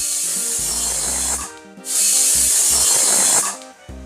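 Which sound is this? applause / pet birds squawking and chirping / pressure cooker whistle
pressure cooker whistle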